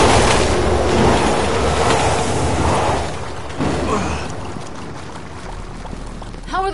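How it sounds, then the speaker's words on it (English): Train rumbling and clattering along rails in a zombie video game, a loud continuous roar with rattling wheels that eases slightly toward the end. "Train's coming!"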